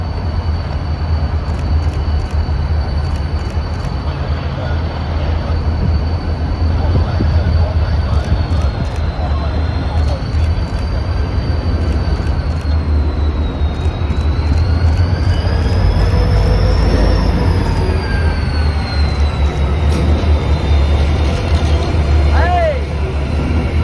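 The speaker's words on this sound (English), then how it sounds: "The CSX locomotives unhook and cruise onto the Worcester Main Line." CSX GP42 locomotives cruise onto the Worcester Main Line near Beacon Park Yard with an MBTA welded rail train, a loud steady diesel rumble throughout with rising high whines and squeals, plus faint voices.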